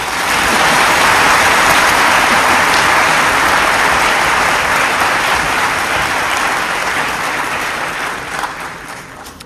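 Audience applause at a ceremony honouring young Indian chess talents, a loud sustained crowd clapping that holds steady for several seconds before tapering off at the end.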